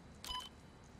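Electronic beeps from the puzzle panels in Resident Evil 4 Remake, a short burst of bright, high tones lasting a fraction of a second over a quiet low hum, then fading.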